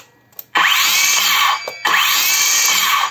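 A YUANSEN battery-powered cordless circular saw on a test run, loudly whirring up to full speed twice in quick succession with a brief drop between, blade spinning freely nearby.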